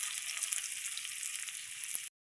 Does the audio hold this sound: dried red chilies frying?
yes